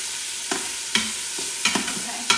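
Meat sears in an Instant Pot, a steady soft sizzle broken every half second or so by sharp scraping clicks as it is stirred and turned, close and fairly quiet.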